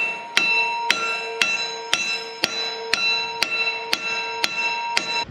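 Metal-on-metal hammer blows driving a part onto the shaft of an old rock picker in a workshop, about ten evenly spaced ringing strikes with a bright bell-like tone, close and loud, no talking.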